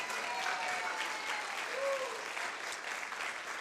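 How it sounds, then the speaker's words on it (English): Even, continuous applause from an evening event audience at a women's gathering, heard at a distance as a soft, steady wash with no breaks. "A big round of applause for Maureen."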